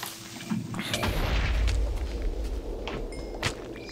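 A Minecraft creeper explodes in the Tekkit modpack, a deep low boom that swells and rumbles for a couple of seconds, followed by softer thuds and clatter of a blown-apart roof.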